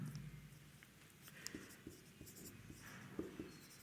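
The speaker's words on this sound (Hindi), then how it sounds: "देखिए एग्जांपल मैं लिखता हूँ पहले।" A hand writes out an example sentence for an English tenses grammar lesson, giving soft, quiet scratchy pen strokes in short bursts with small taps, close by and with no talking.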